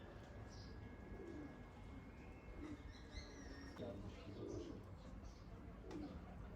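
Racing pigeons coo softly after landing at a loft during a Baku pigeon club flying competition, faint murmuring calls and a few chirps heard at a distance over a noisy outdoor background.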